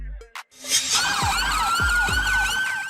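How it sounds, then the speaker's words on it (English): An ambulance siren wails loud and close in rising and falling sweeps, following a short burst of sound at the start, with traffic rumble underneath. "A specially equipped vehicle used to transport individuals who are injured or ill to a medical facility, typically in emergency situations."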